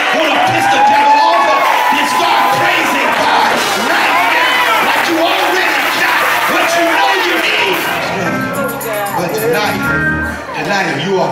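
A church congregation shouts and cheers in praise, a loud, dense crowd roar with whoops and voices that carries on without a break and eases slightly near the end.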